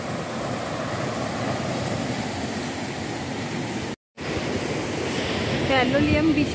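Sea waves wash onto Palolem beach in Goa under an overcast sky, a loud, broad continuous roar of surf that drops out briefly before returning.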